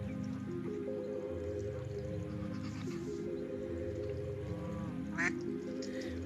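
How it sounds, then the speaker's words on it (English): Ducks and geese at a nature centre make low honking and quacking calls, close and fairly loud, layered over one another, with a sharp squawk near the end. "Here we are with all the little duckies, the geese, and they're all making noises."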